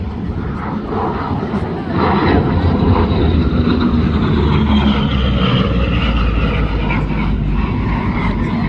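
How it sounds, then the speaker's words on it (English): A Hawker Sea Fury propeller warplane at an airshow, its engine roar swelling louder and steady as it passes overhead, with an announcer talking over it. "Here comes the Hawker Seafarer."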